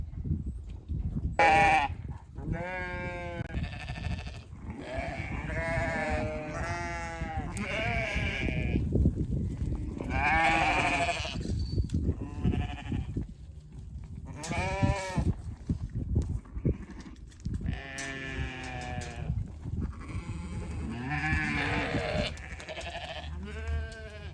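Hair sheep on a farm bleat over and over during a move between pastures, many overlapping calls near and far in a continuous chorus with no talking.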